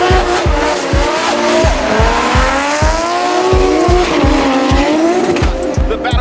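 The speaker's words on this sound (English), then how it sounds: "The battle for 3rd and 4th as the Galore Parts Group Supra backs it in." A 2JZ-powered Toyota A90 Supra drift car slides sideways in a D1 competition battle. Its engine roars loudly and close with rhythmic rev pulses, and sustained tire squeal runs over the top.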